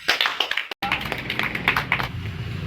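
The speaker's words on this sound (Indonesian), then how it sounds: "Berikan aplaus untuk Azwar Anas" A classroom gives a student a short round of applause, a dense burst of clapping that lasts a couple of seconds and fades.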